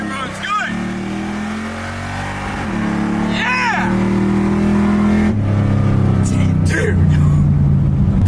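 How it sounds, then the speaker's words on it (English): Supercharged Jaguar XJ with a 383 stroker and AFR heads makes a hard acceleration pull, a loud, near engine roar climbing steadily with tire noise and excited voices over it. "Supercharged Jaguar XJ with a 383 stroker AFR heads. Let's see how this thing runs."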